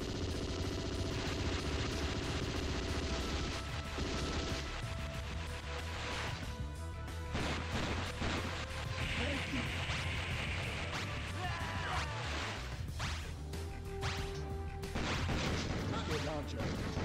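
Rapid gunfire and blasts from Metal Slug 6 as the player shoots at a boss's head, dense bursts of shots and impacts over game music, with someone talking over parts of it.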